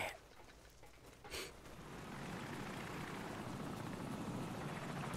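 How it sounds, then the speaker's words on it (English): Helicopter rotor noise in the video game Call of Duty 4: Modern Warfare rises from a quiet start into a steady, broad thrumming wash that holds loud and constant, with no talk over it. "There's a helicopter."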